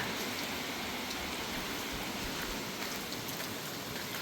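Steady rain falls continuously, a dense hiss of drops on surfaces close by, with no voices or other sounds.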